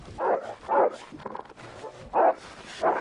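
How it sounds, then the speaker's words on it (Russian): A dog barks a few times, with two pairs of short, moderately loud barks separated by a pause, heard close amid quiet background noise with no talking. "Собака."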